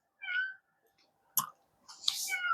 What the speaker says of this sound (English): He just starts meowing around this time, thinking he's needs to be fed.